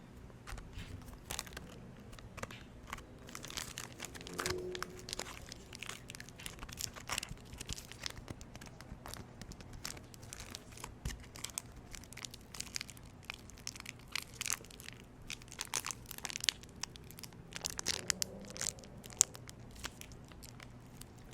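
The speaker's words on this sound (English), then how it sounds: "I love the sound of packaging." Soft crinkling and crackling of plastic packaging from Super Sculpey Living Doll clay is handled close by, quiet and irregular, with scattered crunches and rustles throughout.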